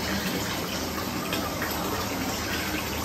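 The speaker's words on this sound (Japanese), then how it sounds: "この音がいいんですよね" Water pours without a break into a sauna's cold plunge bath, making a close, steady gushing splash with a bubbling texture and no voices.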